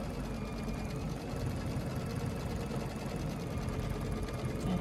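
Brother Dream Machine embroidery machine stitching a fabric panel, a steady fast mechanical whirring and needle chatter running without pause, moderately close and free of talk.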